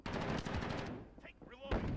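Shotgun blasts in Call of Duty Modern Warfare during a Hardpoint match, rapid loud reports at the start followed by quieter game noise, with a voice talking over it.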